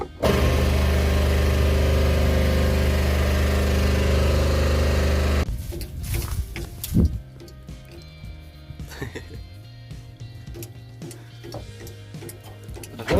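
Dnipro 350 combine harvester running in a sunflower field at harvest, a loud steady engine drone for about five seconds, then a quieter mix of clatter and background noise.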